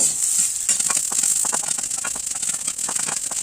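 Sliced onion sautéeing in a pan sizzles steadily up close, a bright hiss dotted with quick crackles and pops that never lets up.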